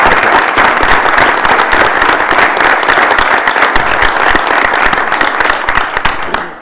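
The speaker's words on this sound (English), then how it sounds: "let's give them a round of applause" Audience at a university Board of Regents meeting applauds, loud dense continuous clapping close by, steady throughout with no speech.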